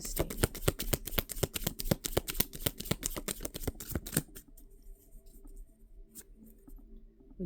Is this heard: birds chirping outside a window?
no